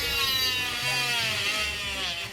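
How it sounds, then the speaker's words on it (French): A steady high-pitched mechanical whine of a small oscillating cast saw for removing plaster casts runs continuously, with a low rumble underneath. "Pour retirer le plâtre, il faut une scie, mais pas n'importe laquelle."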